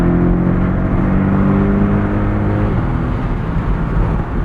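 A 2024 Porsche 718 Boxster Style Edition's flat-four engine pulls hard on kick-down through its PDK gearbox, a loud, steady, close drone that rises in pitch before a quick gear change near the end, with no talking.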